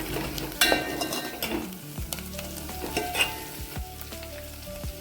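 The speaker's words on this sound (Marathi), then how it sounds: "चांगला मसाला तळून घ्यायचा." Masala frying in a pan, with oil sizzling steadily under repeated scraping and clinking of a spoon as it is stirred, close up and without speech.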